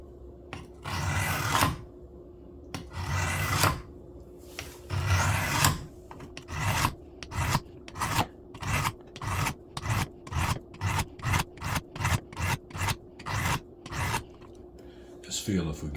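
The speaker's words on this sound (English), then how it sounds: "So I'm going to put a burr on this edge first. And I'm pushing down really hard." A dull pocket knife blade is pushed hard across a whetstone to raise a burr, giving a close rasping scrape that starts as slow, long strokes and quickens into a rapid, steady back-and-forth rhythm, with no talking.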